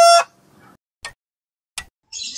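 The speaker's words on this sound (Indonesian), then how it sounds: "Suara ayam, iya betul." A rooster's crow rings out loud and close at the start of a children's sound-guessing game, followed by a few short, sharp knocks and a brief burst of bright noise.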